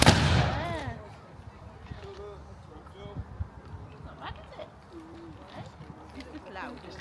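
At an English Civil War reenactment at a village church farm, a rank of muskets fires a volley that opens with one loud blast and a fading rumble. People then talk nearby over outdoor background noise.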